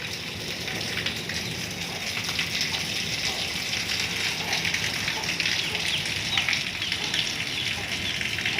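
Rain falls steadily in a village in Balochistan during a stormy, lightning-filled evening, making a continuous dense hiss of drops hitting the ground and nearby surfaces. Gusts make the sound swell slightly, and it stays fairly loud and close throughout.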